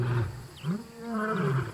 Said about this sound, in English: off in the distance, he hears a familiar roar